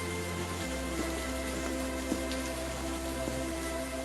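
Heavy monsoon rain in a village: a dense, steady hiss of downpour hitting surfaces, with occasional sharper drips and a low constant rumble, no voices.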